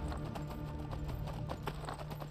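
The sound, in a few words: horse hooves galloping in video game Skyrim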